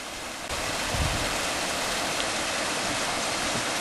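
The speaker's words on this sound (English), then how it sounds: "we just thought we'd show you a picture of the little waterfall coming in from the right hand side, and you can see the water in the stream below" A small waterfall feeding a stream on Kinder Scout in the Peak District, heard as a steady, dense rush of falling and flowing water that holds an even level throughout, with no voices.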